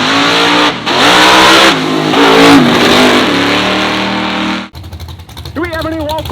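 A drag car rears into a wheel stand at an exhibition show, its engine revving loud and close in a sustained high-pitched roar, then cutting off abruptly before a lower, rougher idle follows with some crowd noise.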